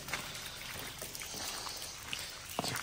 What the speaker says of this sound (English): Lots of water dripping down here